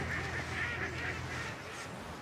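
Several ducks or geese call and honk in a rapid, repeated chatter over a steady background hum, moderately loud and continuous with no voices.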